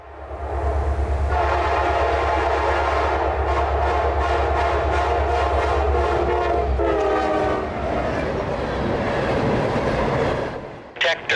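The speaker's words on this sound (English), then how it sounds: "northbound rock train L729, with another Mac and an AC 4400 pulling a fairly short train today" A loud freight train pulled by diesel locomotives, including an AC4400, rumbles past close by, with heavy low engine drone, rattling wheels and railcar clatter building and continuing throughout.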